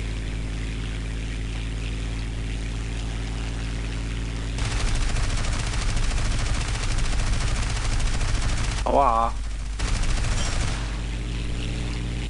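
Tank gunfire in War Thunder, heard as a rapid stream of gunshots over a constant low engine drone, starting partway in and running steadily, with a brief break and a whining sweep near the end.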